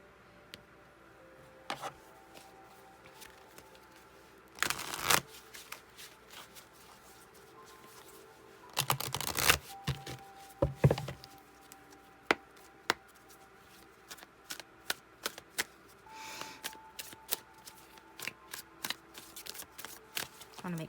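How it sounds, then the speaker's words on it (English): Tarot cards being shuffled during a reading, heard close and quiet. Two short loud riffle bursts stand out, with scattered crisp card taps and slides in between. "I want to make sure it's a good shuffle."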